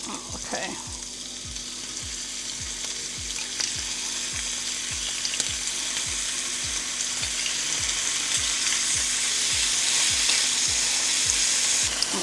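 Shrimp coated in barbecue sauce sizzle steadily in a hot pan as the sugars caramelize, a loud continuous crackle with a regular low ticking running underneath, with no talking.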